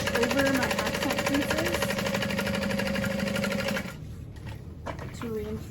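A sewing machine stitches a tote bag seam with a long 4.5 stitch length and back-stitching, its fast rhythmic mechanical whir running loud and steady, then cutting off abruptly near the end, leaving a few quieter handling sounds.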